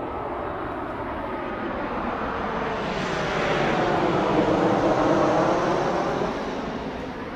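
A fixed-wing airplane passes overhead a community garden, a steady broadband engine roar that swells toward the middle and eases slightly at the end, heard alone without talk.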